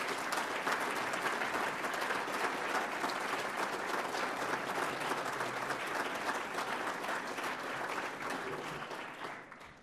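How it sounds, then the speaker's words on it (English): An audience at a chamber of commerce annual awards dinner gives the honorees a long, steady round of applause, dense and sustained throughout, tapering off slightly at the very end. "I would like all of our honorees to stand one more time and get a great round of applause"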